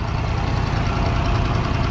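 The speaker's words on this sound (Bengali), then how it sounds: "শব্দ হইতেছে অনেক মেবি এখানে ড্রেজিং করাইতেছে" Dredging machinery working on a river, a loud, steady low engine drone with a rough, thumping mechanical texture, close by and unbroken.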